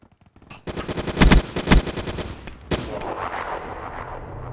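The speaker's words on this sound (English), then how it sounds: "Put the sentry gun right in front of them." Sentry gun in Black Ops 3 hardcore team deathmatch, letting off rapid automatic bursts with a few louder, sharper cracks, close and loud over a constant game background.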